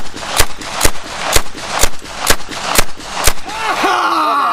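Eight sharp gunshots crack at an even pace, close and loud, at a shooting range, followed by a voice that starts speaking right after the last shot.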